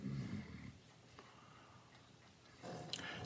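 Isla snores at close range, with a low, rough snore at the start and another as the clip ends, separated by quiet breathing-like noise and no talking.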